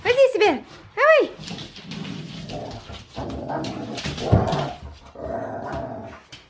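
Dogs playing together outdoors, with low growls and whimpering yelps mixed into scuffling noise, while someone talks and calls out over them.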